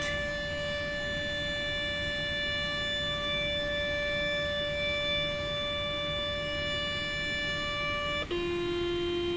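A Gold Prey metal detector scanner emits a steady electronic tone while sweeping over empty ground, held for about eight seconds before abruptly shifting to a lower pitch, constant and fairly quiet.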